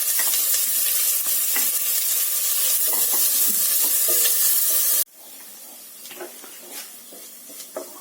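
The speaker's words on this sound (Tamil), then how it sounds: "நம்ம இப்போ வெங்காயத்தை ஆட் பண்ணிக்கலாம்." Onions sizzle loudly in oil with mustard seeds, a bright crackling hiss that drops abruptly halfway to a quieter fry punctuated by stirring clinks and scrapes.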